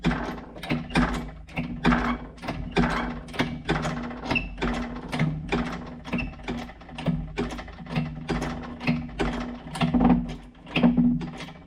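A part being pressed into a lathe tailstock chuck in a workshop, giving a steady run of rapid mechanical clicks and ratcheting knocks close by for about twelve seconds, with no talking.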